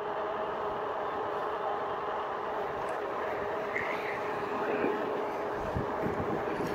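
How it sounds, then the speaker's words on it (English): Steady, loud wind roar buffets the rider of a Rad Power RadRover e-bike, a continuous broadband rush with faint rumble beneath and no pauses. "A lot more wind."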